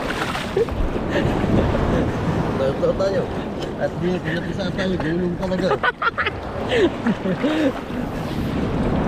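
Large waves crash and churn along a flooded shoreline at Bucana, with steady wind-blown surf roaring throughout while someone speaks close over it.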